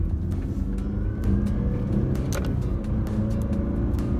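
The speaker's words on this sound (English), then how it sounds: "you do hear a little bit of engine noise with the turbo engine" Cabin-side engine drone from the 2019 Mazda CX-9 Signature's turbocharged 2.5-liter four-cylinder: a steady low rumble with a faint rising whir, continuous and moderately loud with no voices.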